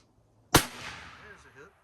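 A single sharp report from a Colt 1873 cavalry revolver firing a black powder load of 25 grains under a 250 grain bullet, loud and close, followed by a fading outdoor echo and a brief faint trailing sound.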